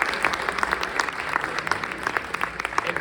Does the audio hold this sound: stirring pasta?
no